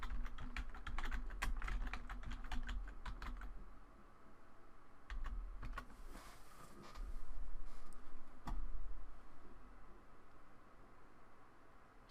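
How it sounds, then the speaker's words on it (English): Rapid keystrokes on a computer keyboard during a digital marketing demo, coming in quick clattering bursts, then a pause and a few scattered taps, with a steady background hiss. "So suppose we type some."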